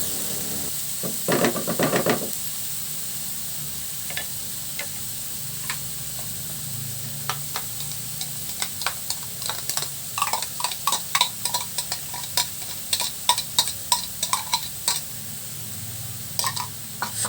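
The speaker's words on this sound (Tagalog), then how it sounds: "Igisa lang natin hanggang maluto ang kamatis at saka itong ating bell pepper." Garlic, onion, tomato and bell pepper sauté in a pan, a soft sizzle under irregular utensil clicks and scrapes that grow busier and quicker midway, close and quiet.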